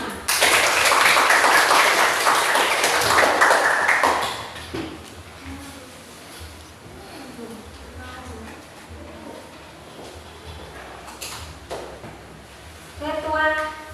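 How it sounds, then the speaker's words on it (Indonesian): A classroom full of students breaks into applause, a dense burst of clapping for about four seconds that then dies away into scattered taps, murmuring voices and room noise. "Aplaus untuk kita semua"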